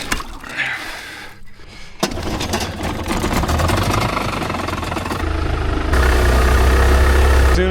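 An outboard motor on an inflatable boat in Mexico is lowered and runs steadily, its low engine drone building in loudness after a brief clunk and continuing close and alone.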